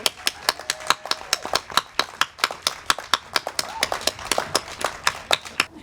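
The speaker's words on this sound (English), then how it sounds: "let's give them a round of applause" Applause from a rally audience for departing guests, a dense burst of clapping hands with sharp claps sustained throughout, fairly close, with a few faint voices underneath.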